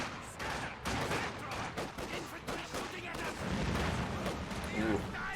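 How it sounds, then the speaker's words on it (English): Kar 98K rifles fire in a long-range firefight in the strategy game Company of Heroes 2, with dense cracking shots mixed with other battle noise and a commentator talking throughout. "So the Kar 98Ks are just really working these long range engagement."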